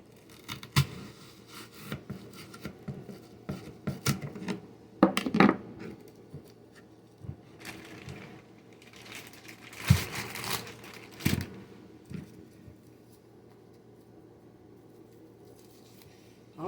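Onion being sliced in a home kitchen while making breakfast: irregular crisp chopping and crunching cuts at close range, with scattered knocks and faint handling noise between them and no talk.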